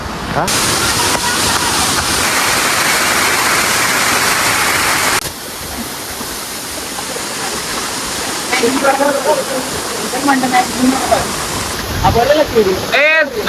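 Vajrai waterfall, the tallest in Maharashtra, roars as a constant, loud rushing wash of water, and people chat over it in the second half.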